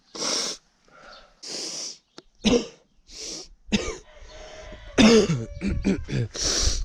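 Repeated coughs and throat clearing from a man who is slightly ill, arriving in short close bursts separated by pauses, with sniffing and rough breathy sounds between them.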